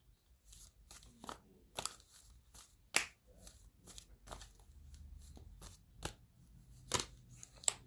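Tarot-style cards shuffled by hand, heard as a string of crisp, close riffling snaps and flicks in an irregular rhythm with quiet gaps between bursts.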